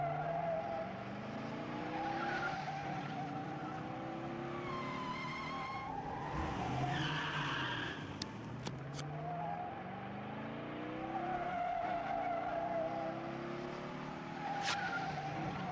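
Cars skid and race in the Over the Alps video game, with engines revving and rising in pitch through repeated tire squeals and sharp screeches. The sound is continuous and moderately loud, with no talk.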